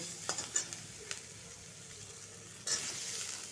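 Pumpkin greens being sautéed with cumin powder in a pan: a quiet, steady sizzle with a few light scraping stirs near the start and another stir near the end.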